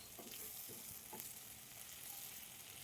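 Spices stirred into vegetables in a hot pan for hotel-style sambar, a steady soft frying sizzle with a few scraping stir strokes of the spoon, close and alone.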